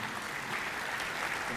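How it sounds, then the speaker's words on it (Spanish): Steady applause from an audience welcoming a speaker at a lecture, a dense wash of clapping hands that holds at an even level throughout. "Recibimos con fuertes aplausos"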